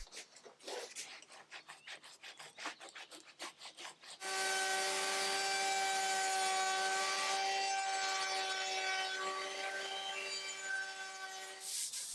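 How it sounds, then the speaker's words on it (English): Wood trim for an antique marquetry table being shaped with a decorative edge on a router table: a loud, steady high-pitched whine that runs on continuously, following a few seconds of rhythmic rasping strokes. "because the original trim had some sort of decorative edge on it, I used my router table to get something similar"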